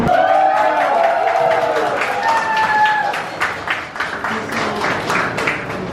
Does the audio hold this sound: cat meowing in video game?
no